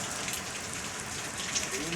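Heavy rain at night pouring down steadily, a dense, even hiss of drops drumming on surfaces close by.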